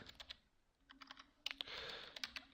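Code is typed on a computer keyboard in quick, uneven bursts of soft clicking keystrokes, close and fairly quiet, with brief pauses between runs and a denser flurry near the end.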